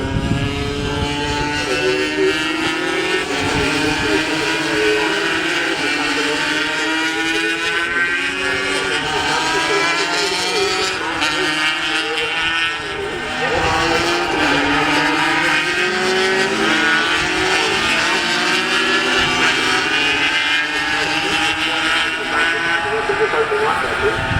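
Race vehicles run down the back straight with a loud, continuous layered engine drone whose pitches rise and fall throughout, while voices talk over it.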